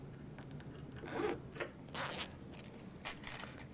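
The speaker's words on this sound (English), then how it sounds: "I'm gonna go ahead and add my zipper pulls to my zipper" Small metal zipper pulls being fitted onto a zipper for a sewn project, giving a series of short, close, quiet clicks and scrapes with brief bursts of jingling metal.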